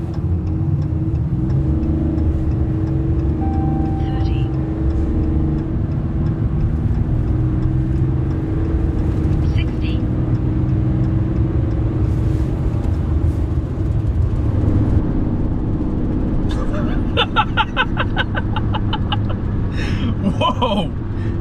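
A 2023 RAM 3500 dually pickup with a Cummins diesel engine accelerating from 0 to 60, a loud, steady low rumble heard from inside the cab, with people talking over it.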